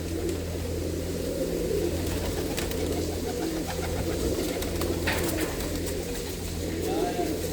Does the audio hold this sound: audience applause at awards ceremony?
no